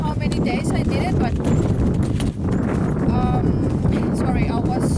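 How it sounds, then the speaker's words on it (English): Hooves of an approaching horse clip-clop steadily on the ground outdoors at a riding session, close and fairly loud, with wind buffeting the microphone and some background noise. "I was just paying attention to the other horse that was coming to me"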